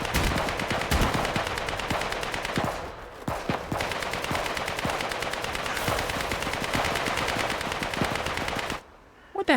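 Outlaws and Protocol soldiers trading gunfire in the video game Atomfall, rapid sustained automatic bursts close by, nearly continuous with a short lull and an abrupt stop near the end.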